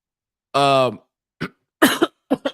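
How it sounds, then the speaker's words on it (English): A single harsh cough rings out, followed by a few short throaty coughs and clearing sounds. "Got this little cough going on here."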